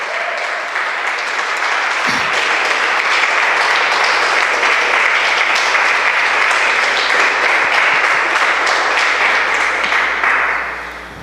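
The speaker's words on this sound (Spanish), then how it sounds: "Denle un aplauso al que vive en esta mañana." A church congregation at a morning service gives sustained, dense applause that holds steady and loud for several seconds before tapering off at the end.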